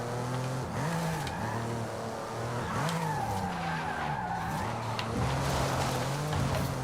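A 1982 Porsche 911 Turbo 3.3 in the Forza Horizon 5 racing game, its engine droning loudly with repeated rising and falling revs as tires skid and squeal through corners, no talk over it.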